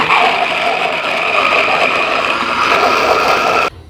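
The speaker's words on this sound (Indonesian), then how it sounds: "Oke, bumbunya siap di blender." An electric blender grinds soto ayam spice paste with a little water, a loud, steady whirring motor drone close up for several seconds before it cuts off abruptly.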